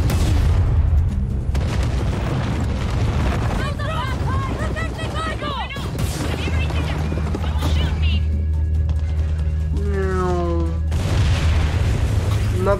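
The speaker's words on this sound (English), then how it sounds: "Bombs away." Bombs exploding in Far Cry 6 make heavy booming blasts with deep rumbling low end, repeating across the stretch amid game music and whistling, whooping tones, loud and close, under occasional talk.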